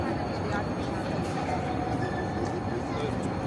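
Heavy train rumble and rolling wheel noise fill the large echoing space of Paris Nord station, steady and close, with faint voices in the background.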